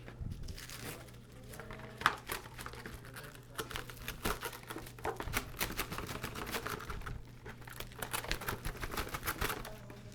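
Plastic wrap being pulled off a roll and handled, giving faint crinkling, crackling and soft tearing rustles in irregular bursts over a low steady hum in a quiet room.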